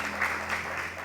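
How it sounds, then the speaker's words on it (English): A church congregation breaks into steady applause, a continuous wash of clapping hands that holds at an even level throughout the brief moment with no voices rising above it. "These are things you can applaud for."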